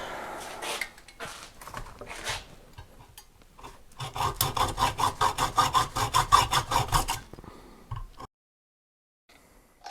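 A tough car oil filter from a Lada is forced open with a rasping, filing-like scrape that builds into a fast run of rhythmic metal strokes, loud and close, then stops abruptly into silence.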